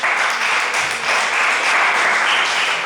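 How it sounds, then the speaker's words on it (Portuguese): A church congregation applauds for Jesus during a bishop's sermon, a dense, sustained burst of many hands clapping together, loud and steady for a few seconds with no speech over it. "dê uma salva de palmas para Jesus"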